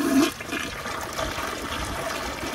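A Project Source Pro toilet with an overfilled tank flushes with a rushing gurgle of water that drains steadily and continues without letting up.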